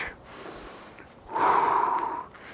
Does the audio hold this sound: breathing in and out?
yes